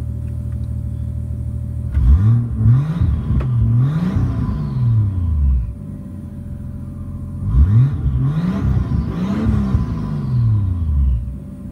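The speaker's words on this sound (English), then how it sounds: "this is what it sounds like on the interior of the car" A MK3 Supra with a 7MGTE engine, heard from inside the cabin, revs twice in rising and falling surges over a low steady idle rumble. The fuel pump whirs faintly beneath it.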